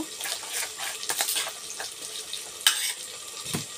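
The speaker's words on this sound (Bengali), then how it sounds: "এই জিনিসটাকে আমি অল্প চামচ দিয়ে গুলে নিচ্ছি অল্প।" A spoon stirs and dissolves a small amount of mixture in a bowl, a few close, light scraping and wet swishing strokes with a brief clink, no talking.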